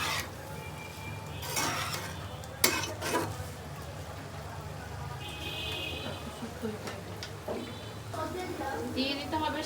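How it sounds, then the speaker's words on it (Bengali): Noodles with noodle masala are stirred in a pan, a few scraping clatters and soft sizzling beneath intermittent talking. "দিয়ে ভালোভাবে আরেকবার একটু নাড়াচাড়া করে নিতে হবে"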